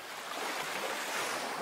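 Steady broadband wash of sea waves on a beach, continuous and fairly loud with a windy, hissing texture and no distinct breaks between surges.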